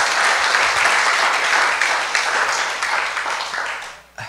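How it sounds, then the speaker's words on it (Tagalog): Church congregation applauding the Lord at a Filipino worship service, a loud, dense wash of clapping that holds steady and then tapers off near the end. "Isa pang malakas sa palakpak, mga kapatid."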